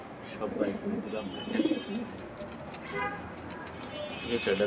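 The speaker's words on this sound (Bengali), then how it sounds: "5 জোড়া বাচ্চা সহ 7 জোড়ার মতো কবুতর আছে।" Domestic pigeons, including the Bombai breed, coo softly in a house loft, low throaty murmurs repeating under a voice with some faint background clatter.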